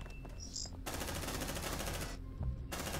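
Gunfire in a video game, a sustained burst of rapid automatic shots firing close and loud, preceded and followed by brief single shots.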